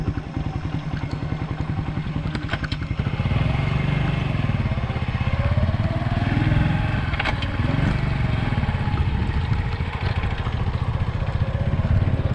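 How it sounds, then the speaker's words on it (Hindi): Motorcycle started and ridden along an uneven rural track in India, a steady loud mid-pitched engine drone running throughout with clattering and rising revs near the middle, no talk. "बाइक को कर लेते हैं जी स्टार्ट, और आगे चलते हैं"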